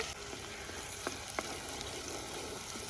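Coarsely ground masala fries in oil: a faint, steady sizzle with a couple of soft clicks, quiet and continuous, with no talk.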